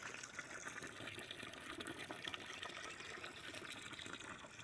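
Water gushes forcefully and steadily from the 1-inch outlet pipe of a 550-watt solar water pump, a continuous rushing splash with no talk over it.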